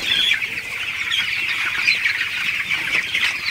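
Broiler chickens on a farm cluck and chatter continuously as a dense, steady flock murmur, close and fairly loud with no talking.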